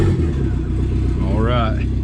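A Dodge Caravan with an SRT4 engine swap starts up and runs, a steady loud mid-pitched engine drone with a brief rising whine, while a person talks over it.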